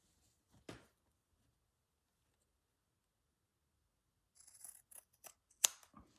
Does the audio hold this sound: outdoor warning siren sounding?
no